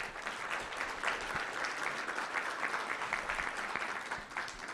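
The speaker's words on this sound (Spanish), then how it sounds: "un fuerte aplauso" Applause from an audience at an academic press and political forum at a university centre, a steady, fairly faint wash of clapping lasting several seconds with no voices over it.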